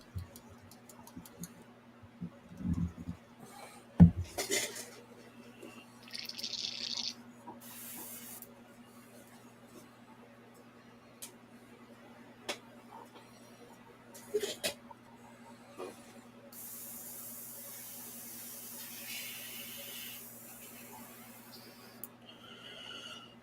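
An airbrush pushes lacquer thinner through its nozzle to clear it while a model kit bust is being painted, giving faint, scattered hissing spray bursts over a steady low hum in a quiet room.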